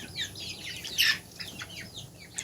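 Native chickens and roosters on a farm, giving scattered clucks and short calls close by, with a light flutter; no talking.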